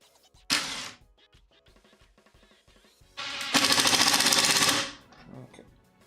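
A drill drives screws while a shop utility cart is built, with a short burst followed by a longer, louder buzzing run, heard close up with faint talk between bursts.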